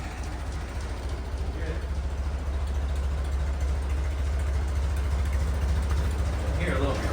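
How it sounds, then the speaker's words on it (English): A 1950 Ford 8N tractor engine idles with a steady low rumble, a faint intermittent ticking from a valve riding on top. "Your exhaust, yeah, I do hear that click. It might be a valve."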